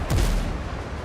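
A single heavy cannon boom from an enemy ship in the naval video game Windrose, loud and close with a rumbling tail that lingers through the second.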